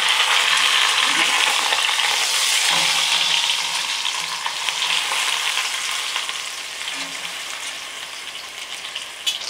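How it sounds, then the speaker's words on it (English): A pork loin rib end roast sizzles and crackles loudly as it browns in vegetable oil, a dense continuous frying hiss with occasional pops and no talk over it. "You can tell when the meat is ready when it starts to pop and sizzle."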